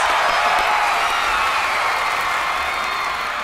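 Audience applause and cheering for a stage performance on a Vietnamese music show, a loud, steady wash of clapping from a large crowd that fills the whole stretch without pause.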